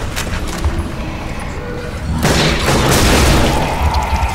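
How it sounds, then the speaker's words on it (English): Heavy booming shots from a sniper rifle in the Zombie Army video game: a loud, close report around midway, with sharper cracks and echoing rumble before it. "I just wasted 5 bullets of sniper rifle to kill 2 zombies."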